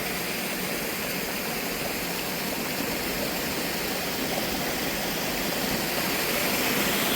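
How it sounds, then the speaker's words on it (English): Waterfall at the Giant's Bathtub in Matthiessen State Park, a constant loud broadband rush of falling water with no pauses or talking. "These are the falls for Giant's bathtub."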